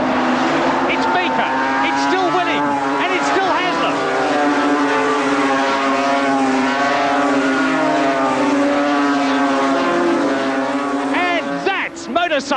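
A pack of 750cc racing motorcycles at Brands Hatch in 1977 screams past in a loud, sustained engine howl, with shifting pitch from several bikes overlapping.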